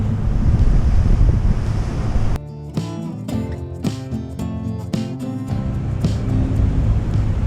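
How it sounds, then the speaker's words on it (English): Water spills into an inland river like a small waterfall, approached by boat on the way toward the Illinois River near Joliet; a steady broadband rush mixes with wind buffeting and a low engine hum throughout. "straight ahead you can see water trickling in like a waterfall"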